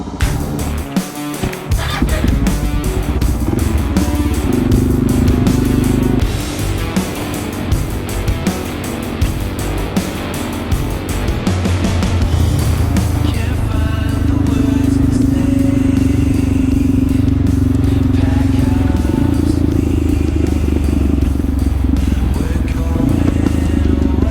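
A motorcycle with loud exhaust pipes rumbles and revs steadily for the whole stretch, deep and close, with the engine note rising and falling.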